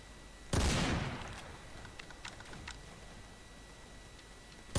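A quad shooter gun fires in a shooting video game: one loud, close blast decays quickly into a few faint clicks and ticks, and a second sharp shot comes at the very end.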